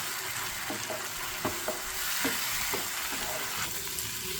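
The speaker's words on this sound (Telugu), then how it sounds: "దీన్ని కూడా పచ్చివాసన పోయేంత వరకు నూనె సెపరేట్ అయ్యేంత వరకు ఫ్రై చేసుకోవాలి" Tomato paste with onions and ginger-garlic paste frying in oil, a close, steady sizzle broken by several clacks and scrapes of a spoon stirring the pan.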